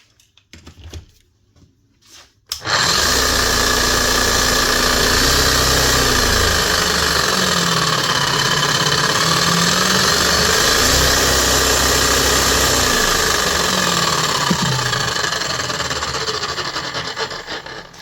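Repaired Bosch hammer drill motor starts with a sudden jump after a few quiet seconds, then runs loud and steady for the rest, a dense whirring hum close by with no talk.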